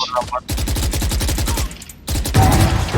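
Rapid automatic gunfire from the tactical shooter game Valorant, fired in two close, fast rhythmic bursts separated by a short gap, loud and clear in the foreground.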